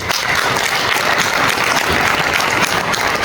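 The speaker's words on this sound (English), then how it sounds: "with a round of applause, we welcome our first speaker, Miss Elizabeth" A welcoming round of applause from an audience at a talk on marriage and single parenthood, steady dense clapping filling the room at close range for its whole length.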